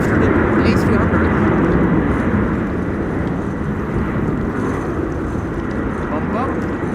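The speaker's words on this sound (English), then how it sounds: "So it's probably going to be the Coast Guard taking off after the A300." A Coast Guard aircraft takes off at windy Amsterdam Schiphol Airport, its engines a loud, steady, broadband roar that holds for several seconds. A voice talks over the noise.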